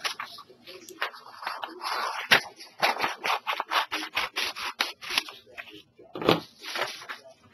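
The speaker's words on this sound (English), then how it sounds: "now I'm just going to cut this down to a smaller, more manageable size." Scissors snip through craft material for making wings, a run of quick, close, crisp cuts in uneven bursts with short pauses between them.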